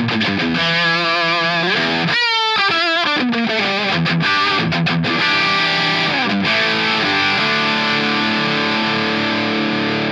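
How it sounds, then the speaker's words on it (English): Electric guitar through an LPD-87 amp-like distortion pedal modeled on an 80s Marshall JCM 800, playing heavily overdriven riffs and bent notes that ring out into sustained chords, loud and alone. "I always like to have an amp-like distortion pedal on my board."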